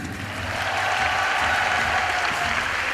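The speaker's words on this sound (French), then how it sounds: "Je vous propose d'applaudir la veuve noire tout de même." Audience applause for the Black Widow character at a French comedy show, a dense, steady wash of clapping that holds at full strength for a few seconds with no voices over it.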